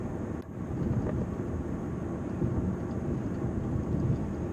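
A 2012 Mercedes-Benz CL63 AMG gives off a low, steady exhaust rumble, a dense broadband drone that holds evenly throughout with no voices over it.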